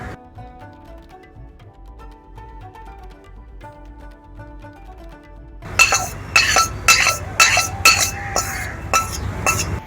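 Mango pieces are mixed with oil and ground spices in a bowl, with close, rhythmic clinks and scrapes of a utensil against the container, preceded by a quieter stretch with faint background tones.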